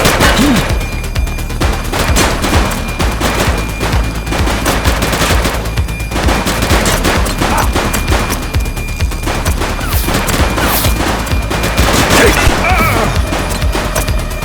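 Sustained police shootout in the video game The Precinct, with dense, loud bursts of rapid gunfire and crashing impacts continuing throughout, no talk.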